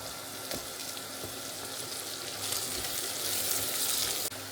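Onion and carrot frying in a pan for buckwheat, a steady close sizzle that grows louder midway, with occasional stirring clicks.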